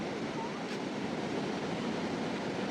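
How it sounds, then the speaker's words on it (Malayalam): Heavy sea surf at a beach in Vietnam, a steady loud broadband wash of breaking waves with wind buffeting the microphone, continuous throughout with no voices. "നല്ല ഹെവി തിരയാണ്, ഹെവി തിര."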